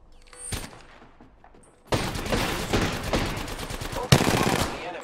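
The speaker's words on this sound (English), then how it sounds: "Shots fired and they're hitting me." Rapid automatic gunfire in the Apex Legends shooter game bursts in loudly after a quieter opening and rattles on in dense, close volleys, with a sharp extra crack near the end.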